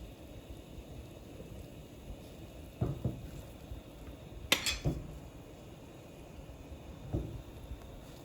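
Potatoes drop into a pot of salted boiling water in a home kitchen, making a few soft splashes and clinks spread over several seconds against a quiet, low background.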